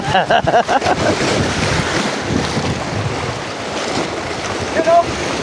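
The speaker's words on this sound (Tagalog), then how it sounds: "Sobrang ang lakas ng alon." Heavy rushing water and strong waves surging around a boat near Binangonan, Rizal, with strong wind buffeting the microphone throughout.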